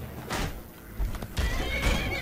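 A horse in Skyrim lets out a loud whinny, then two more neighs follow with hoof clatter mixed in, close and prominent, with no talking over them.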